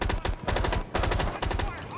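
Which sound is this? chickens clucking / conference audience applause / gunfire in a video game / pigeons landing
gunfire in a video game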